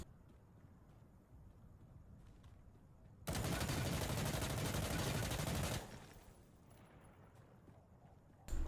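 Mk18 rifle firing in the video game Insurgency Sandstorm, a sustained loud burst of rapid automatic gunfire lasting a few seconds between quiet ambient stretches, with a final short burst at the end.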